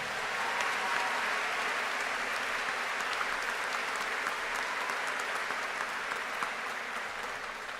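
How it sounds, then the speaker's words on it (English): A large crowd applauds steadily at a high school graduation ceremony, a dense, even wash of clapping heard from a distance that holds for several seconds and eases slightly at the end. "A round of applause for Allison Wink."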